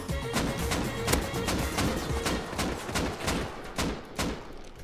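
Shotgun slug fire in the Rust video game: a quick string of sharp cracks and thuds at uneven intervals, moderately distant and fairly quiet within a busy, noisy mix.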